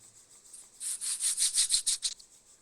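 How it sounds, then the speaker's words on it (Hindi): Both palms rubbed briskly together to warm them, a close, rhythmic hiss of about eight quick strokes lasting just over a second, with no talk. "धीरे से अपने दोनों हथेलियों को रगड़ेंगे, रब करेंगे, गरम करेंगे"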